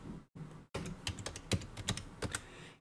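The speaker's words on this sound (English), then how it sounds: "go ahead and type in the password again" Password being typed on a computer keyboard while setting up a Raspberry Pi 4 running Ubuntu: a quick run of close, crisp key clicks with uneven spacing and a brief pause near the start, and no voice.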